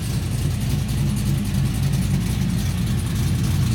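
A car engine runs with its exhaust muffler switched to quiet mode after a starter install with a Holley heat shield and DEI wrap, a steady low idle that stays close and constant with no talk.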